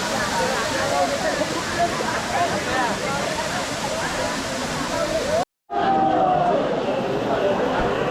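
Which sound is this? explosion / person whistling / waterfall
waterfall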